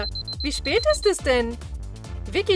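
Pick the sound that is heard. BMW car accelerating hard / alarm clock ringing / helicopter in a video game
alarm clock ringing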